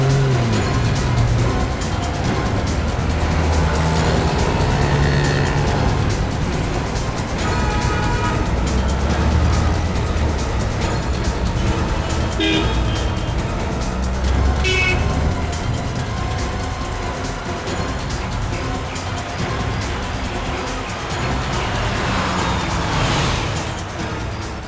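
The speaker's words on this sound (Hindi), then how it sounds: "वो रही गाड़ी, उसका पीछा करो।" A car chase scene from the Hindi TV crime drama CID, with a dense, loud vehicle rumble sustained throughout and no voices.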